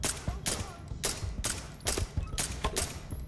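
Rapid bursts of gunfire from a shooting video game, several loud volleys in quick succession with brief gaps, close and dominant, with faint voices beneath.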